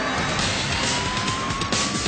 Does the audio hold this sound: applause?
no